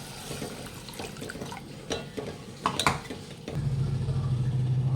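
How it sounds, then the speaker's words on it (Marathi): Water is poured into frying masala for a Maharashtrian amti, a sharp hissing surge over the last second or so after a few light clinks and stirring clatters of a pan, with no voices. "आता त्याच्यात आपल्याला पाणी टाकून घ्यायचं आहे"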